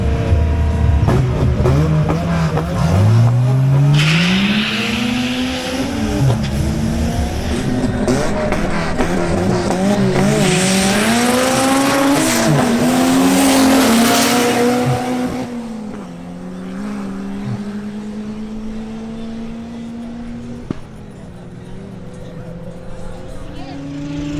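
A BMW M340i xDrive makes a drag race run, its engine roaring and climbing in pitch through repeated gear changes before settling into a steadier drone; an announcer's voice is heard at times.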